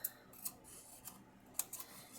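Scissors cut a paper piece away from a die-cut sewing machine treat box, leaving several quiet, crisp snips at an irregular pace with soft rustling between them, close but faint, with no talk.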